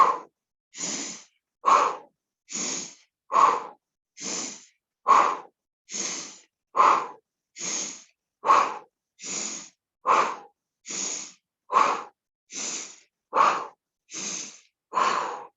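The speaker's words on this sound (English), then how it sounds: "Add a pumping breath if you want" During a Pilates swimming exercise on a mat, a person does a pumping breath: sharp, evenly spaced breaths in and out, about two every second, close and clear with no talk.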